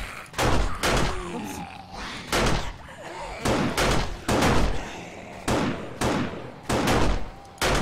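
Gunshots in 7 Days to Die, Alpha 16 multiplayer, crack out one by one in a loud, steady series about every second, with voices talking between the shots.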